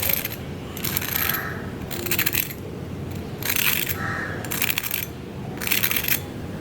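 Crispy fried frozen snacks are handled or bitten in bursts of crunchy, crackling noise, five or six loud close clusters separated by short pauses, with no talking.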